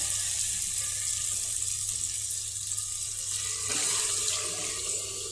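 About one and a half litres of water is poured into a cooking pot for spiced rice. It makes a continuous splashing, trickling rush, close and fairly loud, with no voices.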